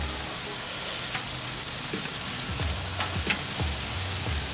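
Korean-style short ribs sizzle loudly in a pan after being flipped, a steady crackling hiss with a few clinks and scrapes of utensils near the end.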